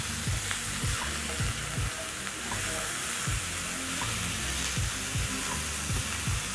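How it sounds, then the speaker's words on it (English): Beef strips frying in a hot pan, a dense continuous sizzle with rhythmic stirring clatter and scraping, close and steady. "We're going to cook your beef strips for about 2 minutes"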